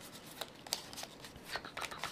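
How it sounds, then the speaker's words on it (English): A deck of playing cards is shuffled at a tabletop game session, a run of quick papery riffles and snaps up close, fairly soft, with no talk. "So let me shuffle these."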